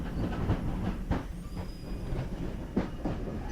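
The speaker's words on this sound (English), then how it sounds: "You're riding aboard one of 4 genuine steam-powered trains of the Disneyland Railroad." A genuine steam-powered Disneyland Railroad train running, with a continuous low rumble and faint rhythmic clatter of wheels, carriage noise steady and fairly quiet.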